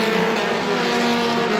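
Race cars at Star Speedway roaring together down the back straightaway in a Roadrunner feature, a loud, continuous droning engine whine with steady pitch, no voices.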